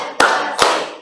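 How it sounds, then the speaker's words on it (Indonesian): A class claps hands together in rhythm during a classroom ice-breaking warm-up, two sharp, loud claps spaced under half a second apart, with no talk. "Tepuk 1, tepuk 2, tepuk 3, tepuk 4."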